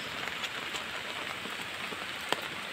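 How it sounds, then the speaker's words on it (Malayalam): Steady heavy rain falls outdoors where saplings are being planted, a dense continuous patter with a few sharper drops striking nearby surfaces. "ഇവിടെയൊക്കെ നല്ല മഴയാണ്"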